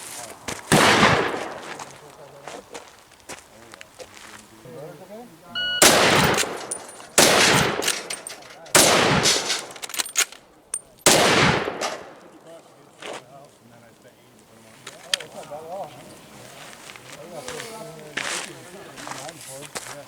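A scout rifle fires in a home-invasion drill, several loud sharp shots spaced a second or two apart, followed by quieter handling and movement, with talking around the shots.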